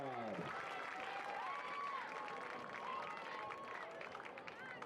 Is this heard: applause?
yes